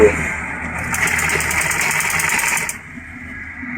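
Sewing machine stitching a trouser back pocket runs steadily for about two seconds, a fast buzzing whir close by, while a voice talks over it.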